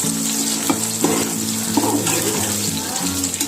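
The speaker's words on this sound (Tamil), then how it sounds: "1/2 kg சின்ன வெங்காயம் இதையே ஆட் பண்ணிக்கலாம். இதுவும் வந்துட்டு நல்லா வதங்கட்டும்." Small onions (shallots) frying in a pan for Thalapakatti mutton biryani give a steady, close sizzle with light crackle, a continuous hiss that holds evenly throughout, with no talking.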